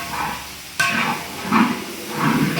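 Beef masala with ginger-garlic paste sizzles in a frying pan. It is stirred in a few distinct sweeps, each with a rising scrape and hiss, and no one speaks.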